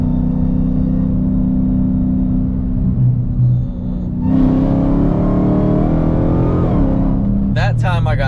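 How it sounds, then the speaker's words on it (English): Car accelerating hard in a 70 mph roll from fourth gear during a street tire traction test, engine droning loud and steady throughout, with a gear-like rise and a brief burst near the end. "That time I got traction, so that was 70 miles an hour in fourth gear."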